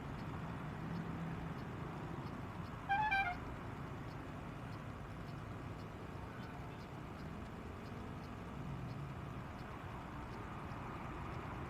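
Heavy road traffic on Commonwealth Avenue rumbles faintly and steadily in the distance, broken by one short car horn toot about three seconds in.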